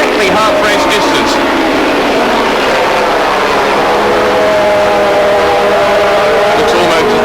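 Racing motorcycles at Lakeside Raceway, a five-bike pack in the 1987 Swann Series race, drone past with layered engine whines rising and falling throughout under steady commentator talk.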